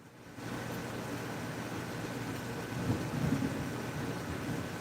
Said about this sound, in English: I just heard the thunder.